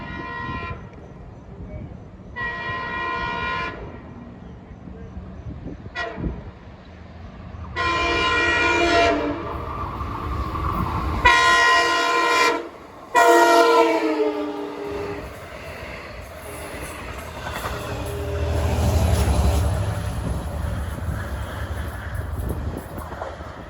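A Long Island Rail Road cab car on train 2707 sounds its horn in several long blasts as it passes, with rumbling wheels and a rising roar close by toward the end.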